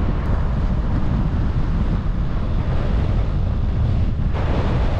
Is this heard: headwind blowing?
yes